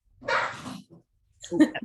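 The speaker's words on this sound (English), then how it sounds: "The dog wants to collaborate." A dog barks twice nearby at a panel discussion, a broad burst followed by a short gap and then a second, sharper bark with a small yip.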